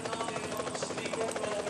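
A helicopter hovers over a professional road cycling race, its rotor a steady pulsing buzz heard at moderate distance for a brief stretch, with no voices.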